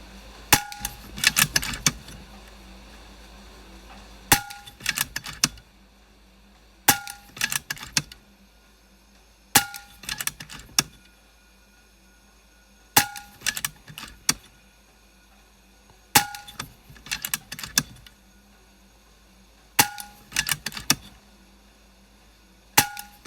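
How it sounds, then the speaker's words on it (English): FX Maverick air rifle fired from a bench at 30 yards with dual regulators, ten sharp shots in quick succession, each a crisp loud crack with a short metallic ring and cocking clatter, spaced a few seconds apart. "10 shots in under 30 seconds"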